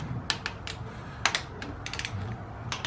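Torque wrench working over intake manifold bolts on a Pontiac 350 engine rebuild: a sparse run of quick metallic ratchet clicks in short bursts, close and fairly quiet over low room noise.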